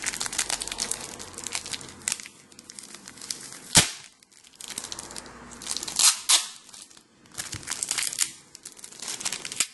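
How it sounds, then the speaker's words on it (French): Tape is peeled and crinkled off the plastic wrapper of a Pokémon trading card booster pack in stretches of crackling tearing, with a sharp pull partway through and quieter pauses between. "On va essayer d'enlever le scotch."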